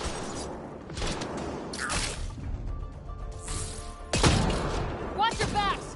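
Gunfire and sci-fi combat effects in the video game Mass Effect during a fight against a cloaking enemy: bursts of noisy shots, whooshes and crashes, with shimmering electronic tones near the end and speech throughout.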